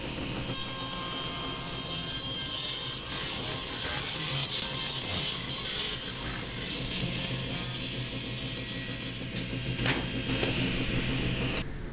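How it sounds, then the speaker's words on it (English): Table saw ripping a cherry wood board to a parallel edge, a steady broadband whine and rasp of the blade through the wood running continuously and fairly loud, with no talking. "And then over to the table saw to get our parallel edge."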